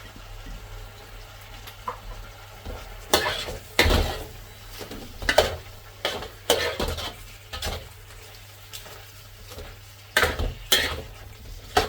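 Onions sautéed in a pan for pork adobo, with a steady sizzle under repeated scraping and clinking of a utensil against the pan at close range.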